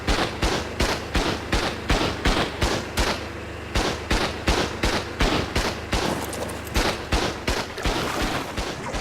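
Rapid rhythmic gunfire from a gun in Ark Survival Evolved Mobile, shooting at fish from a raft: a steady string of sharp, evenly spaced shots with a short pause midway, loud and close, with no talk.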